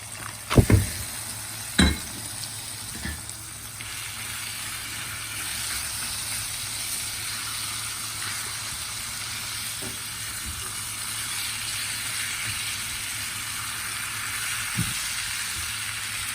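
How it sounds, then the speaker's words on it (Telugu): Marinated boneless chicken frying in oil with masala and onions in a pan, a steady close sizzle throughout, broken early by a few sharp clinks and scrapes of a stirring spoon against the pan. "ఒక ఐదు నిమిషాలు బాగా కలుపుతూ ఫ్రై చేయాలి బాగా మసాలా ఆనియన్స్ అన్నీ కూడా దీన్ని బాగా పట్టాలి"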